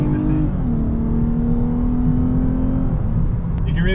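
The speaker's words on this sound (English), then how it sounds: "I just love accelerating in this thing." Interior engine drone of a 2022 Lexus IS350 F Sport pulling under acceleration, a steady low rumble with rising tones that shift as the transmission changes gear partway through.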